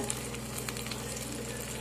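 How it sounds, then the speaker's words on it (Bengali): Eggs sizzle steadily in a pan with raw onion and green chili, a soft continuous frying hiss with no voices over it. "আমি ডিমগুলো এখন ভাজা করে নেব কাঁচা পেঁয়াজ কাঁচা লঙ্কা দিয়ে দিয়েছি ওটাকে ভেজে নেব"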